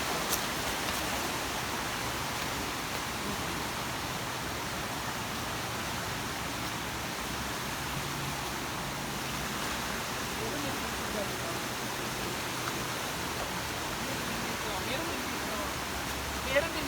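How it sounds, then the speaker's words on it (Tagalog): Water from Pulon Falls rushes past in a continuous, even roar of broadband noise, steady throughout with no distinct pauses. "Dito po dumadaan yung tubig ng sa Pulon Falls."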